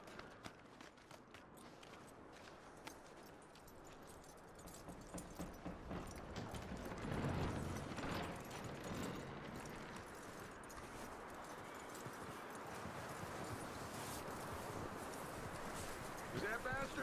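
Horse hooves clip-clopping at a walk in Red Dead Redemption 2, a steady run of soft hoofbeats lasting the whole stretch, with game sounds and voices over them.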